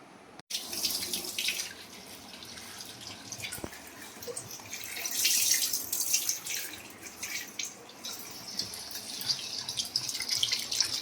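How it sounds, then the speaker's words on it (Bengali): Tap water runs over prawns being rinsed in a sink, a steady close gush with splashing and dripping that swells midway, with no talking. "চিংড়ি মাছটা ভালো করে একটু ধুয়ে নিই।"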